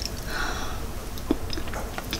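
Close, soft chewing of Starbucks pumpkin cheesecake, faint moist bites with a small crunch midway, quiet against light background hiss.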